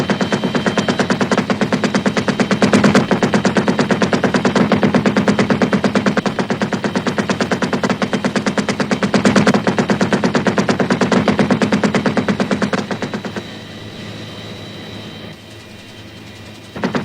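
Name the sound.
six-barrel minigun heavy machine gun firing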